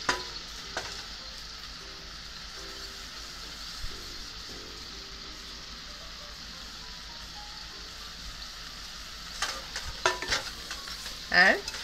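Sweet potatoes with sugar are stirred and frying in a pan, giving a faint, steady sizzle with soft scraping; brief louder clatters toward the end.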